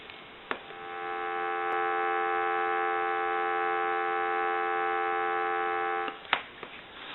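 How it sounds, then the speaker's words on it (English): A telephone dial tone on a landline set under repair, a steady continuous electronic hum holding for about five seconds between brief clicks at the start and end, loud and close with no talk. "Give you some dial tone."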